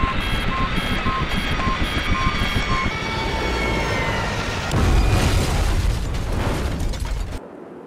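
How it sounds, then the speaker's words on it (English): A crashing aircraft in the game Project IGI: a loud, sustained roar of engine and explosions, with an intermittent warning beep over the first three seconds, a heavier boom near five seconds, then an abrupt cut to quiet. "We're gonna crash!"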